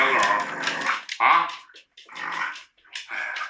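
A young Labrador puppy barks and whimpers in short bursts close by, interleaved with a person scolding it.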